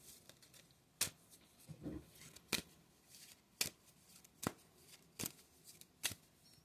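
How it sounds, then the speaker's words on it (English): Tarot cards being shuffled by hand, a series of sharp riffling bursts roughly every second, crisp and close with soft handling rustles between them and no talking. "let me shuffle these"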